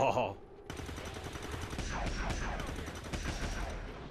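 Reaction-fire gunfire in the video game XCOM 2 breaks out after a short sound effect, a sustained burst of rapid shots layered with game effects, fairly loud and continuous for several seconds.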